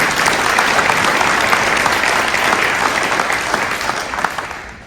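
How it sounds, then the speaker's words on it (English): A town hall audience gives a panel a steady round of clapping, dense and even for several seconds before tapering slightly at the end. "Let's give them a big round of applause."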